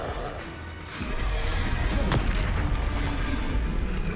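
A Confringo spell blast in the Hogwarts Legacy game erupts into a loud, booming explosive rumble that swells after a quieter start and holds heavy and close, with chaotic crashing debris.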